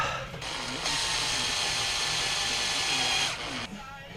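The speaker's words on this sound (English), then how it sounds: "So then I'm gonna drill them out a little bit." A drill whirs steadily in a few seconds of close, continuous grinding, drilling out holes in a 1/14-scale lowboy trailer part, with short pauses at the start and end.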